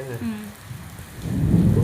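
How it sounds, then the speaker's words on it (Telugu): A low rumble of thunder swells toward the end, layered over the soft patter of rain. "ఇప్పుడు చెప్పు, ఇంకా ఉరుములు ఎందుకు వస్తున్నాయి చెప్పు"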